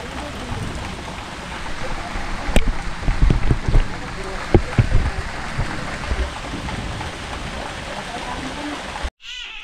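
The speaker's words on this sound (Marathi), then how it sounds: "बाहेर पाऊस चालू आहे" Rain falls steadily outside, a continuous wash of noise with a few louder knocks and thuds partway through.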